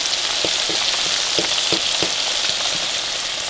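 Sliced squash fries in a pan, giving a loud, dense, continuous sizzle close up with a few soft scraping bumps as the pieces are pushed around, and no one speaking.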